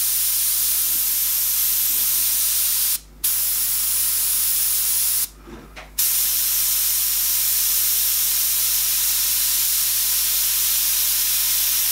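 Airbrush spraying paint onto artwork of the Joker, a loud, continuous close-up hiss that cuts out briefly twice, a short gap and then a longer one, before resuming and running on steadily.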